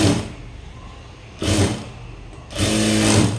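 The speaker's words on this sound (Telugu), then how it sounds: "ఇలాగా ఇలాగ మనం డబుల్ స్టిచ్ వేసుకొని ఓవర్లాక్ వేసేసుకుంటే సరిపోతుంది" A sewing machine double-stitches and overlocks a blouse seam. It runs in short close bursts separated by quieter gaps, and the longest, loudest run comes at the end, with no one speaking.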